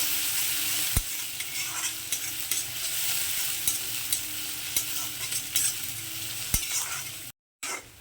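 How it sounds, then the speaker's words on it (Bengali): Chopped onion and garlic fry in a pan for a village-style lentil dal with jute leaves, giving a steady close sizzle. A few sharp clinks of stirring break through, then it drops briefly to silence near the end. "পেঁয়াজ রসুনটাকে একটু লাল লাল করে ভেজে নেবো"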